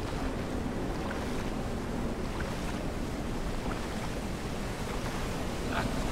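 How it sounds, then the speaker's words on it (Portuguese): Steady roaring rush of a waterfall in the video game Dying Light The Following, a dense continuous wash of falling water heard up close and loud for the whole stretch, with no voices. "agora vamos sair daqui da cachoeira"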